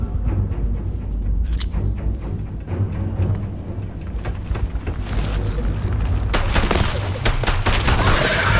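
Gunfire in Starfield, a sci-fi video game, with a dense, loud barrage of shots and explosive cracks over a constant rumbling bed, growing heavier toward the end.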